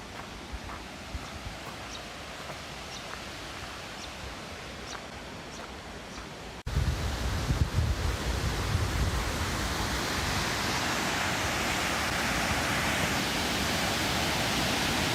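A waterfall near Cairns, Queensland roars as a steady, dense rush of falling water, close and full, growing louder and heavier partway through with no one talking.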